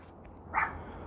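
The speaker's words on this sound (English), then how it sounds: "Are you barking at me?" A single short dog bark sounds partway through, moderately close and clear above a low steady background rumble.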